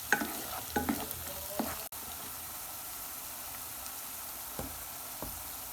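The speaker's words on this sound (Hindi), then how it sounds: "हम इसमें लहसुन अदरक का पेस्ट ऐड करेंगे और इसको मज़ीद 1 मिनट भूनेंगे" Garlic ginger paste frying with onions in a pan, a steady low sizzle broken by several stirring scrapes and clinks near the start, fairly quiet with no talk.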